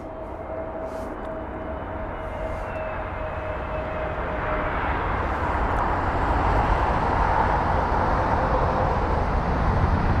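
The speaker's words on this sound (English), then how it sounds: "The TAP jet, 4-year-old A320neo" TAP Air Portugal Airbus A320neo, four years old, arriving from Lisbon and landing at London Heathrow: a steady broadband jet roar that swells and grows louder through the second half, with a faint whine early on.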